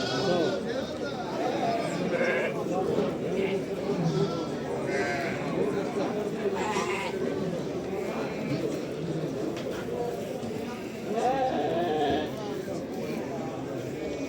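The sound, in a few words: sheep bleating at a sheep market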